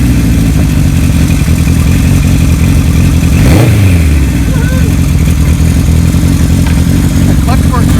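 A restored 1975 Kawasaki Z1 900 motorcycle engine runs steadily throughout, with a brief rise in revs midway before settling back to a loud, rumbling idle.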